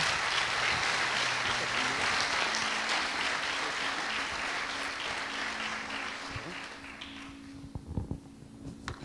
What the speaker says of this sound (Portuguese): Dá uma salva de palmas, posso dar para Jesus então essa noite